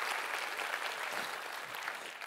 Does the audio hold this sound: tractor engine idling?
no